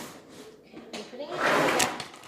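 A drawer being opened or shut at home, heard as a short rattling slide that swells near the end, with voices in the background.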